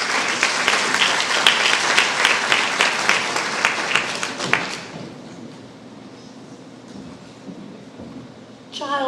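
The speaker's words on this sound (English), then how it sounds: "Give a round of applause for Mary Lou." Theater audience applause at a live storytelling event in a historic art theater, dense loud clapping for about four seconds that cuts off abruptly into quiet room tone with a faint noise near the end.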